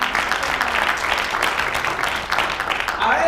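A church congregation applauds in a sustained, dense wash of clapping that fills the room at moderate loudness and holds steady throughout.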